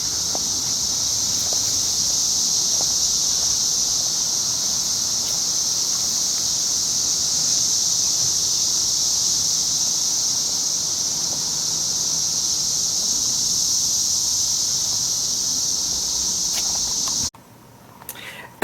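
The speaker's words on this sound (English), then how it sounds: "as we listen to cicadas" Cicadas drone in a continuous, even high-pitched buzz outdoors near a house, holding steady for a long stretch before cutting off abruptly near the end.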